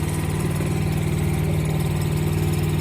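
A vehicle engine with a drivability problem runs steadily after being put in gear, a loud, close, even low rumble with a constant throbbing hum and no voices.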